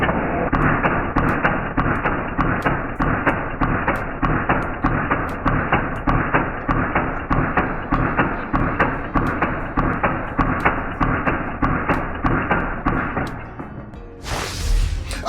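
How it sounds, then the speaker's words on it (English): An ARES SL10 electric blowback airsoft gun fires a long, even series of sharp, punchy shots in a fast regular rhythm, loud and close, then stops with a brief noise at the end. "Take a look as I take a single shot."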